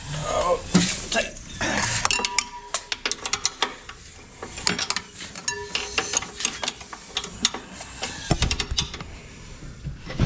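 Metal clinks, ratchet clicks and wrench taps ring out in quick irregular bursts as motor bolts are tightened on a Wood Mizer EG100 sawmill, close and fairly loud, with a voice speaking briefly at times.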